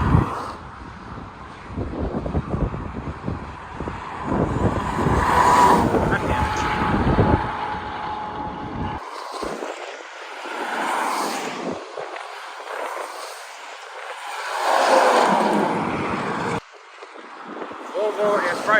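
Volvo and Freightliner trucks passing on a highway, a broad roaring rush that swells and fades with wind buffeting the microphone and a voice talking over part of it.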